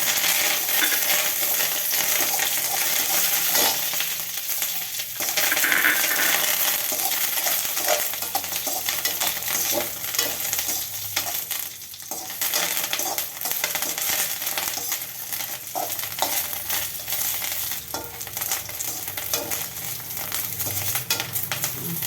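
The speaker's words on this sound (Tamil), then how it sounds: "மிளகா வறுத்து வைக்குவாங்க." Dry red chilies and curry leaves roast in oil in a pan for idli podi, giving a steady broadband crackle and sizzle with scattered clicks and scrapes of stirring throughout, fairly close and without talk.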